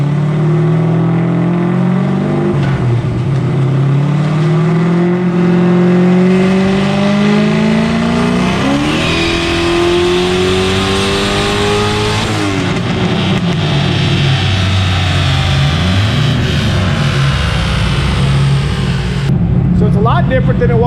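Ford 363 stroker V8 fitted with a big turbo revs hard on a dyno, the loud engine note climbing and dropping in pitch through repeated pulls, a steady, continuous roar filling the whole stretch.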